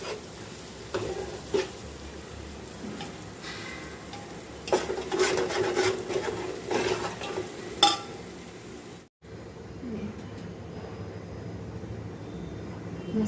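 Masala spices for biryani sizzle in a pan while being stirred, with steady frying crackle and scraping strokes of the spoon, a brief drop-out, then quieter sizzling continues close by.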